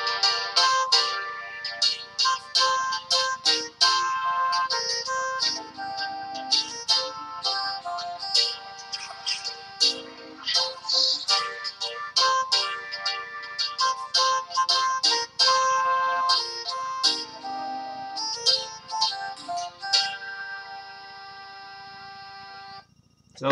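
A musical phone ringtone plays on and on for over twenty seconds, a bright, busy melodic loop of quick notes that holds steady in loudness before stopping abruptly.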